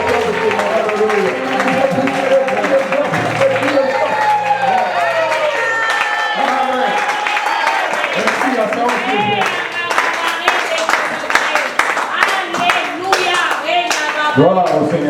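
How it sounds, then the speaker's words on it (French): A church congregation claps and cheers for a preacher, dense rhythmic clapping with scattered whoops running steadily throughout, with voices and music mixed in underneath. "Est-ce que tu peux acclamer pour le prédicateur de ce moment?"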